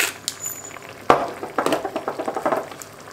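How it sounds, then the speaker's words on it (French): Tomato sauce with white fish simmering in a pan, a soft steady sizzle with a few sharp clinks of utensil against the pan, close and alone. "Et on fait cuire jusqu'à ce que la sauce s'épaissit un tout petit peu, que les tomates rendent un petit peu leur jus."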